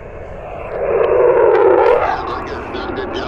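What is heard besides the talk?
airplanes flying overhead at an air show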